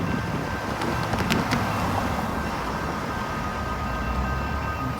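A train approaching a railroad crossing makes a steady, moderately loud rumble and hiss throughout, with faint sustained tones above it and no talking.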